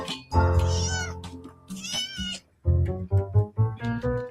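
A pet cat named Luffy meows repeatedly at close range in long, wavering, drawn-out calls with short pauses, plus a low purring rumble underneath, loud and alone.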